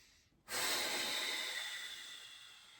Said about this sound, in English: Take a few big breaths here.